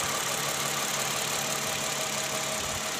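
A Toyota Camry's 2GR 3500 cc V6 engine idles steadily up close, a continuous hum with a faint thin tone running through it, from an engine with a faulty tensioner assembly.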